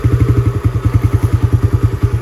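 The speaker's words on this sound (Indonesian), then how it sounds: "Suara mesinnya khas Satria banget ya," A Suzuki Raider 125 motorcycle engine started with one kick, then running at a steady idle with a close, loud, rhythmic low thumping pulse and a mechanical clatter.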